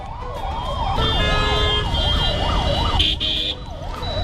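An ambulance siren wails in a repeating up-and-down sweep over dense Delhi traffic, with steady engine and road rumble underneath and a brief higher tone near the end; no one speaks.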